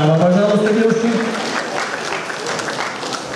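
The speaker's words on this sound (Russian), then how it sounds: "Зрители аплодируют." An audience applauds at a regional fitness-bikini competition, dense clapping loud at first and easing as it goes on, under a brief stretch of voice at the start.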